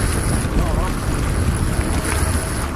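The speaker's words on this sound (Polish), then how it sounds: "Ten wiatr taki lipny." Wind buffeting a microphone outdoors on a cold day near a bridge, a constant low rumbling roar with gusty swells that dominates the whole stretch.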